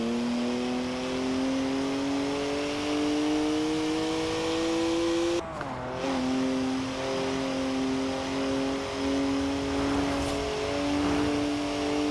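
A BMW car engine drones steadily in Forza Horizon 4, revving and holding pitch with a brief shift dip midway, loud and continuous with no talk.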